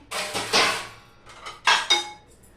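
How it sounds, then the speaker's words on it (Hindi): Freshly washed dishes are stacked and put away in a home kitchen, a few sharp clattering clinks of pots, plates and cutlery in quick bursts, close and fairly loud with no voices. "सारे बर्तन धो चुकी हूँ। अब उनको सेट कर रही हूँ मैं यहाँ"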